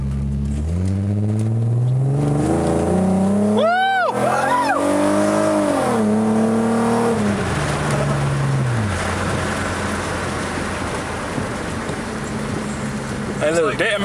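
A car engine roars at full throttle, climbing through gears with rising, rasping revs, loud and close, then settling into a rough steady drone.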